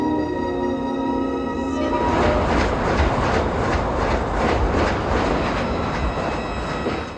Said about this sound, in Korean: 출장을 위해 기차에 오르는데